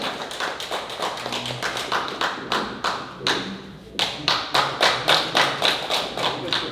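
An audience at a Korean national prayer breakfast lecture claps to welcome Dr. Cho Pyeong-yeol, a brisk run of sharp, evenly spaced claps that dips briefly and then resumes just as strong.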